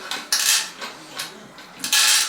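Cutting a piece off a shower pan during a DIY shower pan installation: several harsh, close bursts of scraping and rasping in an uneven rhythm, with no voices.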